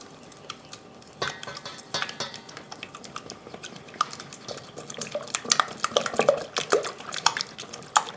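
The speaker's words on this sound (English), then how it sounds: "So get the wet ingredients all mixed together." Wet ingredients for homemade chicken treats, including eggs, stirred together in a bowl, with scattered clinks of utensil against the dish and soft sloshing, moderately close, with no talking.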